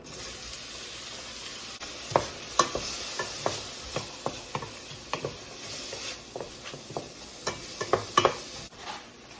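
Chopped onion and mushrooms sizzle steadily in melted butter in a pan, with sharp clinks and scrapes of stirring scattered through the continuous frying hiss, close and fairly loud.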